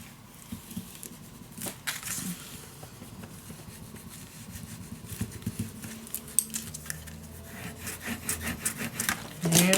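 Paper on a handmade butterfly mini album is burnished down with repeated soft rubbing and scraping strokes, close and fairly quiet, continuing in an uneven rhythm.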